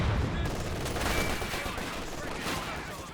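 Heavy artillery barrage in the strategy game Company of Heroes 2, with shells landing as a continuous rumbling roll of blasts that lasts throughout.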